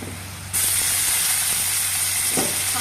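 Chopped ginger hits browned onions in a hot pan with a sudden loud sizzle that then holds as a steady hiss, with a light stir.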